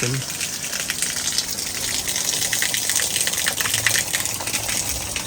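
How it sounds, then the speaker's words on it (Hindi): An electric motor pump filling a water tank at a house, a steady loud gushing rush of water that runs without a break, with voices talking over it. "मोटर बंद करो, टैंकी फुल हो गई है"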